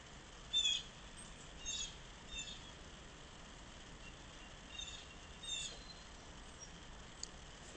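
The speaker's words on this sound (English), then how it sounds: "The birds are throwing us a party as we get close to ending." Faint, scattered high chirps from birds come and go over a steady outdoor hiss, a few brief calls spaced across the stretch.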